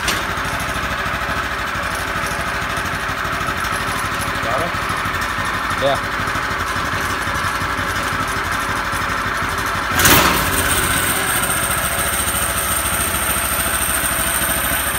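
A vintage 1960s go-kart engine runs with a steady, buzzy drone, and a louder burst comes near the end as it revs. Brief talk is heard over it.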